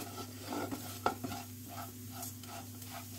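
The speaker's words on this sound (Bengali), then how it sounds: "বেসনটা একটুখানি ভেজে নিলাম।" Gram flour being fried in hot oil while making lanka chop, with a steady close sizzle and the scrape of stirring, plus a sharper clink near the middle.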